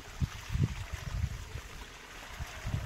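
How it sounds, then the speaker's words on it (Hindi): Water runs from a pipe at full pressure into a shrimp field, a close, low gurgling and splashing flow with irregular surges. "देखिए दोस्तों पानी चालू किया है, अभी पानी जाएगा इसमें,"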